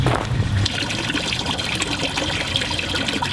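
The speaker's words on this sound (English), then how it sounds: "I have the tub being filled with my pond water" Pond water trickles and pours steadily into a tub beneath a garden workbench, a continuous close splashing stream with no talk over it.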